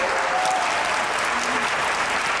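A studio audience on a comedy talk show breaks into dense, continuous applause, a loud, even wash of clapping that holds for the whole stretch.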